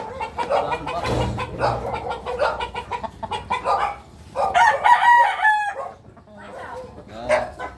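Native chickens cluck and a rooster crows loudly nearby in Bulacan, with people talking over the birds throughout.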